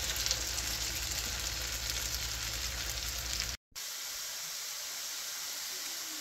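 Diced potatoes pan-fry on a stove at medium-high heat, producing a steady, close hiss of sizzling oil that drops briefly to silence before resuming slightly softer.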